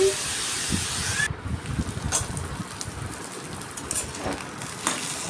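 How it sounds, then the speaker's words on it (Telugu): Ridge gourd peel and sesame seeds fry in hot oil with a steady, close spattering hiss like light rain, and soft stirring scrapes break through now and then. "ఈ విధంగా వేగాలండి ఎర్రగా వచ్చినాయి కదా కొంచెం ఇలా వేగాలి పచ్చివాసన పోయేలాగా"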